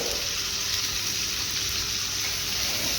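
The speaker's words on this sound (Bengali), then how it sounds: "আমি এখানে একটা ছোট টমেটো বেটে নিয়েছি, এটাকে একটুখানি একটু কষিয়ে নেব জাস্ট হালকা করে" Tomato paste sautéing in a pan while a jackfruit-seed malai curry is cooked, a steady broadband sizzle and fry that holds evenly throughout, close and fairly loud, with no talking.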